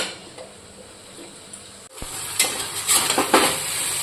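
Spices frying in oil for a dried fish curry, stirred in a pot, with a soft steady sizzle that brightens after a brief pause and a few scraping stirs near the end.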